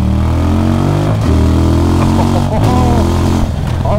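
A QJ Motors SRV 300 motorcycle with a 300 cc engine ridden on the road, its steady, loud engine drone and harmonic hum running throughout, with slight throttle changes partway through.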